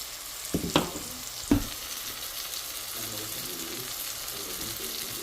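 Ground pork frying in a pan, with a low steady sizzle, a few sharp clanks of a utensil against the pan early on, then continuous stirring and faint scraping.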